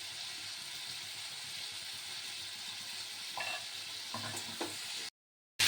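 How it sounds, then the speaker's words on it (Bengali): Boiled potatoes with turmeric sauté in a pan for a bottle-gourd lentil-dumpling curry, giving a steady soft sizzle with a few louder scraping stirs near the end before a sudden cut to silence. "আলুটা দিয়ে দেবো। এটা ভালো করে কষে নেব। হলুদ দিয়ে দিলাম,"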